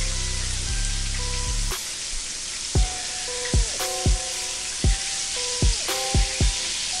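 Honey garlic chicken pieces frying in a hot pan, a constant loud sizzle broken by several sharp clattering knocks of pan and utensil spaced irregularly through the second half.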